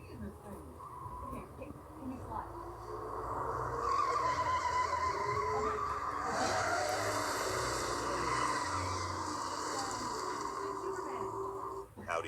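An Audi e-tron GT electric car drives hard, its tires skidding and squealing in a long sustained screech with a faint electric whine, under a low background hum.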